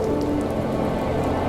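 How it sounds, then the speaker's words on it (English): Rain falls in the video game The First Tree, a steady, close patter of drops on surfaces filling the short moment evenly, with a faint low hum beneath and no speech. "And now it's raining."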